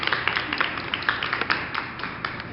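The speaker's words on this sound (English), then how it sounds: "let's give E2 a round of applause as he comes and takes the seat" Scattered, light applause from a small panel audience at a fashion industry discussion, a few sparse claps tapping out unevenly over a couple of seconds.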